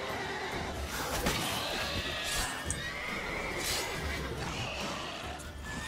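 A horse in The Witcher 3 gives a clear whinny and snorts close by, with a short clatter of game sounds in the background.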